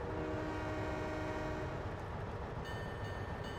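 A loud, continuous American train horn blares over a rumbling rail background in Trainz Simulator 2, with a bell-like ringing tone joining near the end.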